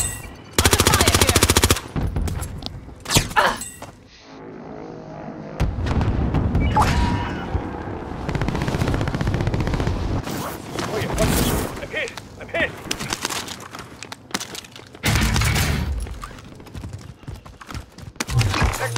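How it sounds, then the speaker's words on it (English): Gunfire on Rebirth Island in a video game: loud bursts of automatic fire and single shots come in uneven clusters separated by quieter gaps, with faint game sounds in between and no one speaking. "Under fire here."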